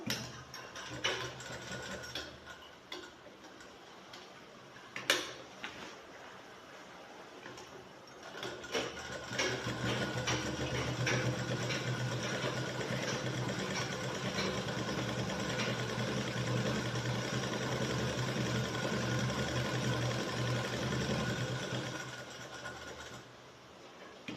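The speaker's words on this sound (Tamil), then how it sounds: "காலர் பட்டியில் நாம் தைச்ச தையல்லேருந்து 1/4 இன்ச்சுக்கு கீழே இன்னொரு தையல் போடுறோம்" A sewing machine stitching a shirt collar band runs in a steady continuous mechanical whir for a long stretch, after a few short starts and ticks at the beginning.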